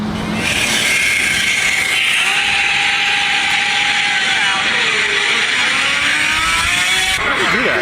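A Lamborghini Murcielago SV engine roars loudly and steadily, its pitch shifting as it revs up and settles, with a final rising burst near the end.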